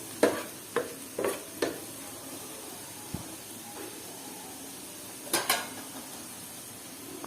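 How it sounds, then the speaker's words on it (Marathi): Onions and spice mix fry quietly in a pan on low heat while a spoon stirs them, giving a soft steady sizzle broken by several sharp clinks and scrapes of the utensil against the pan. "आणि हे सगळं आपण चांगलं मिक्स करून घ्यायचं आहे कांद्यामध्ये."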